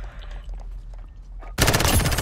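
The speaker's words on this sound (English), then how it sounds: "I just spawned into gunfire" Gunfire in Call of Duty: Modern Warfare, a sudden loud burst of rapid automatic shots that starts partway through after quieter in-game ambience and continues to the end.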